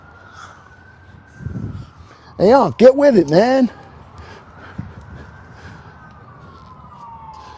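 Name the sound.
emergency vehicle sirens outside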